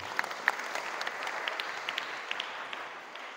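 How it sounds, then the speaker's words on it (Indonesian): A room of female students at an Islamic boarding school gives a short round of applause, soft and scattered with individual claps popping out near the start and thinning toward the end. "Tepuk tangan buat pertanyaan hari ini"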